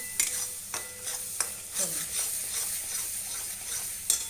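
Spices and ground paste frying in hot oil for a rustic village-style mutton curry, stirred with a spoon: a steady close sizzle with scraping strokes and a few sharp clinks, no talking.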